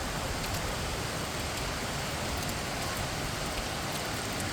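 Heavy rain falls in Kochi in a dense, even roar, loud and unbroken throughout, with no wind and no voices.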